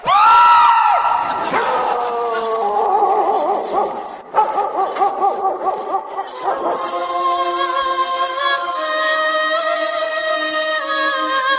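Dogs bark and howl in a drawn-out, excited chorus, with long wavering yelps shifting into steady overlapping cries, loud and close with no talking over them.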